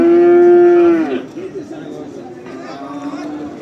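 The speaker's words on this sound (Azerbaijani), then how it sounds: "bordoğa giden danalar" A calf bound for fattening moos once, loud and close for about a second, at the Barda livestock market in Azerbaijan, followed by crowd chatter and a fainter second call under the voices.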